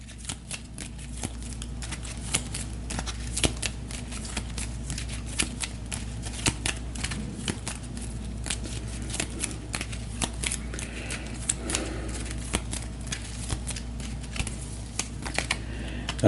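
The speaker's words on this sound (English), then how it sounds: "I will shuffle up the Automa cards." Cards from an Automa solo deck for the board game Terraforming Mars: Ares Expedition are shuffled steadily for about sixteen seconds, a continuous run of close, crisp riffling and flicking with no talking.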